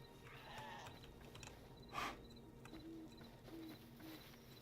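Sheep in the video game Hytale give a few faint bleats over a soft, steady game ambience, distant and quiet.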